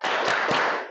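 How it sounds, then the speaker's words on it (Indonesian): A classroom of children doing the rhythmic tepuk semangat spirit clap, a short burst of loud claps together in a group, under a second long. "Tepuk semangat."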